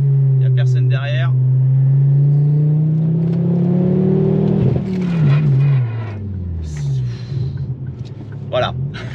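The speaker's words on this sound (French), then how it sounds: "Je vais vous montrer un petit peu comment ça freine." A car with a big brake kit and Cup 2 semi-slick tyres decelerates hard from speed, its engine note dropping steadily and a brief tyre scrub near the end, close and loud inside the cabin.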